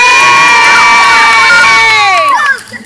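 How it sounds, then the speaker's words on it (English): Live studio audience at a Fear Factor Live stunt show cheering, whooping and shouting loudly for the finalists, a dense continuous crowd roar with high excited voices throughout. "Ladies and gentlemen, a big round of applause for your finalists."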